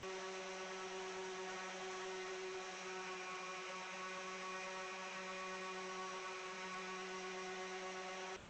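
A power sander works a surface with 220 grit sandpaper in a final sanding pass, its steady whining motor drone holding constant and close for the whole stretch with no talk over it.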